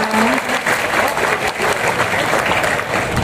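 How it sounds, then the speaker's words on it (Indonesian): A large outdoor crowd at a religious sermon in front of Borobudur temple applauds, a loud dense wash of clapping that runs steadily through the whole clip with a faint voice at the start. "Boleh berikan tepuk tangan yang luar biasa teman-teman semuanya."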